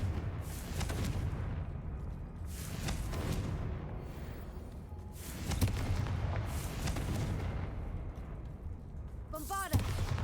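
A Confringo blasting spell in Hogwarts Legacy goes off as a series of rumbling explosive bursts among ambient game sound, fairly quiet overall, with a voice speaking between the blasts.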